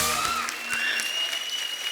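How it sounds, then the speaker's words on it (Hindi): Audience applause on a studio show welcoming Indian women's cricket players, a dense, steady clapping that fills the whole moment at close range and moderate loudness. "जोरदार तालियां।"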